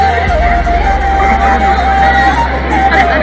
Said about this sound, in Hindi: और इधर ये भीड़ है